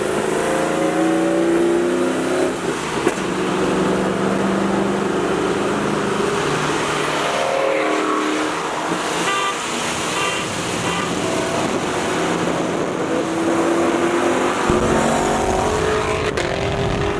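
Car engines rev and roar past, rising and falling in pitch, with a continuous road rumble.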